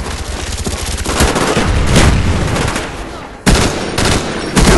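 Sustained automatic gunfire from a video game sentry gun, loud and continuous with a brief break before a second burst resumes.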